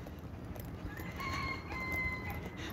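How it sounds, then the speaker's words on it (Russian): Roosters crowing at a distance outdoors near a bridge, several drawn-out calls rising over steady ambient noise, with faint clucking around them. "Петушки поют."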